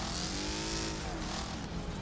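Several race cars in the demolition racing game Wreckfest roar together, overlapping engine notes rising and falling as they accelerate through a busy, dense pack.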